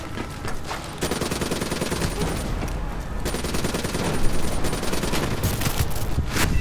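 Sustained gunfire in Call of Duty: Black Ops III, rapid automatic bursts and cracking shots piling up almost continuously, loud and close, with a brief lull around the middle before the barrage resumes.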